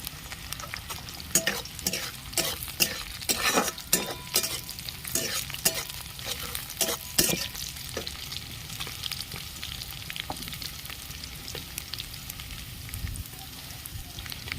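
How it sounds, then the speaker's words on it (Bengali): Chopped onion and garlic fry steadily in a pan for a spicy winter-vegetable pasta, with a continuous sizzle broken by frequent clinks and scrapes of stirring. "পেঁয়াজটা বেশি লাল করে ভাজবো না রসুন কুচি দিয়ে দিচ্ছি"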